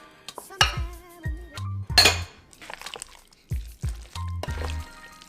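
Potato salad with sweet gherkin pickles being tossed in a bowl, with clinking dishware and utensil scrapes in several short bursts and gaps of quiet between them, close by.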